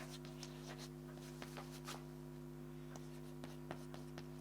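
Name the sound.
writing by hand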